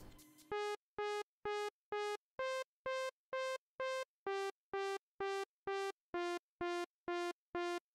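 A saw-wave synth with filter and wavetable movement for a track pulses in short, evenly spaced bright stabs, about two per second, stepping through a simple melody, alone and fairly loud after a brief noisy lead-in.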